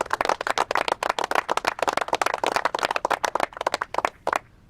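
Audience at a press conference by Governor Abbott and ten state governors in Mission breaks into dense, steady clapping close by, a brisk mass of overlapping claps that holds for several seconds before tapering off abruptly.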